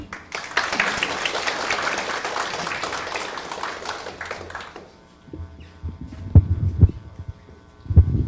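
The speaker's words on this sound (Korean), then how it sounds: "큰 박수로 맞이해 주시기 바랍니다" Applause from a seated audience at a public lecture in Paju welcomes a speaker, steady and dense for about five seconds, then fading into a quieter hall with scattered taps and thumps.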